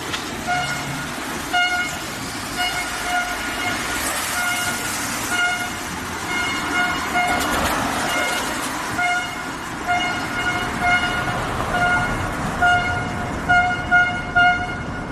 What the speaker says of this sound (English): Who the heck keeps honking?